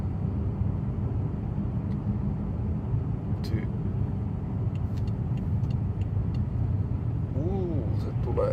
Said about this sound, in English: And now I'm gonna drive up to Rob and Maija.